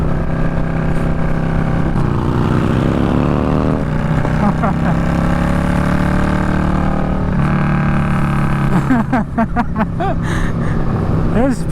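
Harley-Davidson-style motorcycle engine running at high revs on a ride alongside a Sportster 1200, with loud exhaust pops and crackles breaking through a steady roar of engine and wind; someone talks over it.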